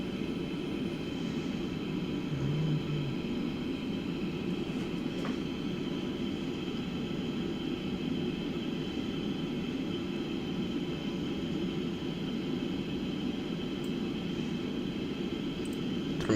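Airliner engines in a flight simulator game during initial climb after takeoff, a quiet, steady broadband roar holding evenly with no voices.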